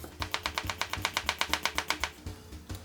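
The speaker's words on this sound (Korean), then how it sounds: "먼저 양파 먼저 썰게요." A knife chops onion into thin strips on a cutting board, a quick, steady run of crisp taps close by, pausing briefly before a final cut.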